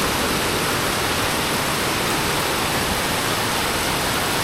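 Heavy pouring rain falls outdoors along a long corridor, a constant, loud, even hiss of water with no breaks and no voices.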